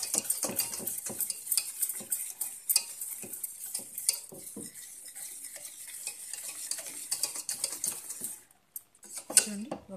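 Fresh cream for homemade butter is churned in a big bowl, with quick, rhythmic scraping and clinking strokes close up. The strokes carry on steadily, then pause briefly before a few final knocks.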